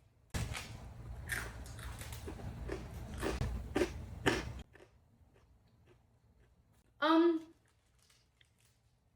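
Crunchy bites into the flaky pastry crust of a Gordon Ramsay-style beef Wellington, close up, with a run of crisp crackling chews for about four seconds, then quiet and a brief voice.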